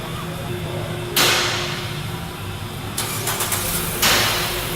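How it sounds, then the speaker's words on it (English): A car engine cranks and catches, followed by sharp bursts as it starts, then another surge of engine noise at the end. "I'm going to start the car and let it run for about 10 seconds."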